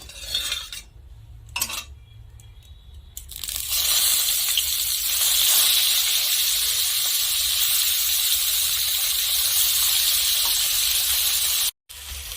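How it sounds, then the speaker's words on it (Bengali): Bata fish drops into hot mustard oil and breaks into a loud, steady hiss of frying after a few light clatters, continuing close and strong before a brief cutoff near the end. "এখন আমি সরিষার তেল দিয়ে প্রথমে টকের মাছটা ভেজে নেব।"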